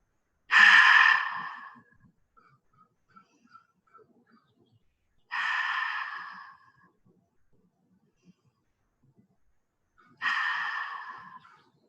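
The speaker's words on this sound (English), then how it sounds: "And then we'll take a few cleansing breaths." Three deep cleansing breaths taken during a legs-and-hips stretching workout, each a long, airy exhale about five seconds apart, close and fairly loud with near silence between them.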